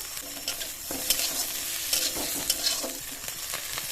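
Onion, ginger and garlic paste and chopped chillies fry in a pan, a steady sizzle broken by intermittent stirring scrapes and clinks, close and moderately loud.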